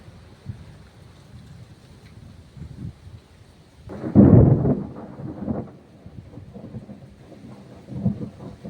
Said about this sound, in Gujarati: જોરદાર ગાજ્યું છે